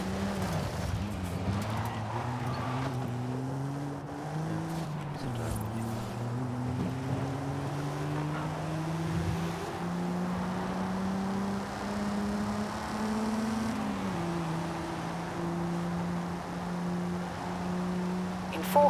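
Volkswagen Golf GTI racing in Forza Horizon 5, its engine droning steadily and rising through the revs with a few brief dips at gear changes, sustained, close and continuous with no voices.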